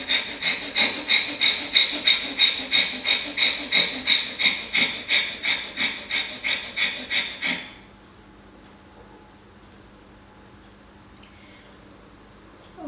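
Himalayan Kapalabhati yoga breathing: about twenty rapid, forceful rhythmic exhalations through the nose, loud and close, then the pumping stops abruptly and only faint room quiet remains.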